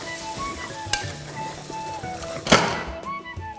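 Water splashes into mutton frying with spinach masala in a pan, setting off a sudden loud hiss and burst of sizzling over a steady background fry, with stirring clatter throughout.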